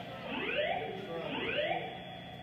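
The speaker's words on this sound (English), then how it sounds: "There has been a fire alarm reported in the building." A building fire alarm sounds during a high expansion foam test, a loud, steady electronic tone with two rising sweeps repeating about once a second, with no talk over it.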